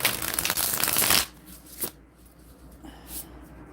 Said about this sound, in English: I'm gonna speak on that for a second while I shuffle these cards.